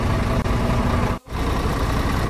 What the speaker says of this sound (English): I can turn the engine on to build the air up in the trailer